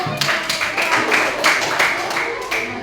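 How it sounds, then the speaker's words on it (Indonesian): Hands clapping in a classroom during a teaching practice session, a brisk run of claps from a small group, fairly close and steady, with a voice speaking over it. "tepuk tangan"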